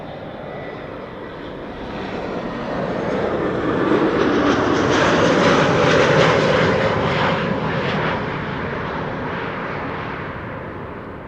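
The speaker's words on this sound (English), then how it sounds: "A320neo arriving from Valencia." An Airbus A320neo jet arriving from Valencia roars past, its engine noise swelling to a broad peak and then slowly fading.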